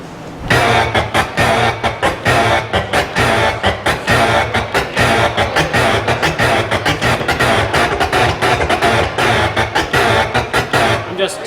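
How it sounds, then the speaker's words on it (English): DJ transform scratch on turntables, a tapped pattern of one note forward and two notes back repeated rapidly and steadily, with choppy rhythmic cuts throughout, loud and close. "there's a scratch that's a really nice transform pattern where you do one note forward, two notes back."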